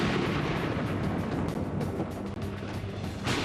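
Thunder follows a lightning bolt as a deep, loud rumble that rolls on steadily with dense crackling texture and swells again near the end.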